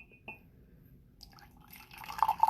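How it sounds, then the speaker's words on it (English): Zealong oolong tea is poured into a cup, a quiet trickle that builds from a few early drips into a brighter, louder stream of liquid splashing into the vessel near the end. "I'm gonna go ahead and pour some out"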